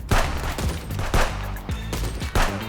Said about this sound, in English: I popped off with my pea shooter and tried to get better at landing headshots.